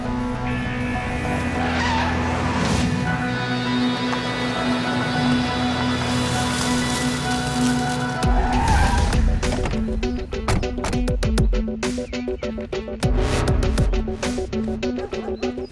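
A car drives hard through a chase in a South Indian film, its engine roaring loud and steady with a sustained tire squeal, then harsh skidding and scraping bursts toward the end, music underneath.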